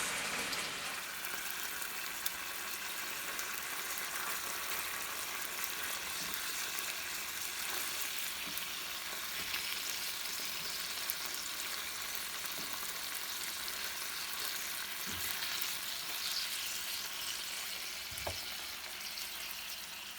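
Chicken for lettuce wraps frying in a pan, a steady, even sizzle that holds unbroken for the whole stretch with faint occasional pops and no talking.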